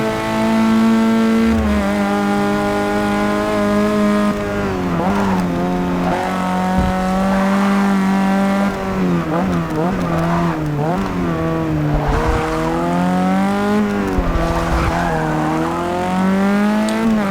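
A race car in Forza Motorsport 6 drives hard, its engine loudly revving and dropping through gear changes with occasional tire squeal, close and sustained throughout.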